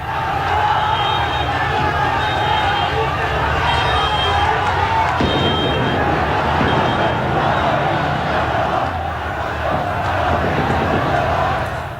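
Large crowd of demonstrators clashing with troops in the streets of Tehran, a dense continuous roar of shouting and battle cries with babble and scattered yells, loud and close throughout.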